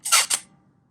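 A Nikon L35AF compact film camera fires its shutter close up, two quick clicks in succession, then silence.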